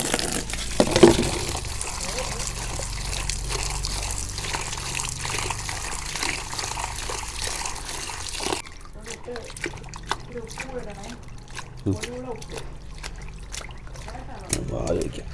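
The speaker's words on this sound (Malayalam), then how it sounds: "ഒരു 2 വെള്ളത്തിൽ കഴുകിയെടുക്കണം." Cauliflower florets are rinsed under running water in a home kitchen, giving a steady trickling, splashing flow that continues under a person talking.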